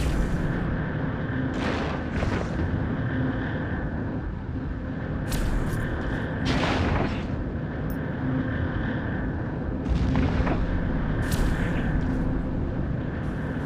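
Ship weapons in EVE Echoes fire on a Praxis battleship, a steady space-combat rumble broken by several sharp bursts and booming shots at irregular intervals.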